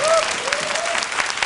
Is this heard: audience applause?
yes